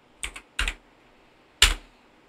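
Three brief, sharp keystroke bursts on a computer keyboard while entering a Linux network command on Debian 11, spaced irregularly over two seconds, fairly close and otherwise quiet, with no talking.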